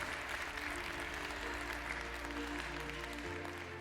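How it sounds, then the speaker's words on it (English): A large conference audience applauds in a dense, sustained wash of clapping that stays level throughout, with a low hall rumble beneath. "Ladies and gentlemen, let's give them a round of applause"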